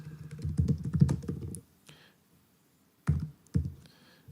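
Street address typed on a computer keyboard: a quick burst of clustered keystrokes, a pause with a faint tap, then two separate sharp key presses, close and clear with no talking.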